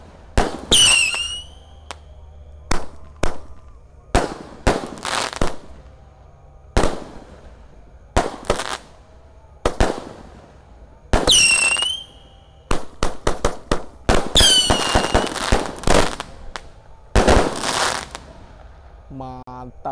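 Boxed Roman candle fireworks fired on Eid eve night, a series of sharp pops and whistling shots bursting at irregular intervals, loud and close, with crackling tails between launches.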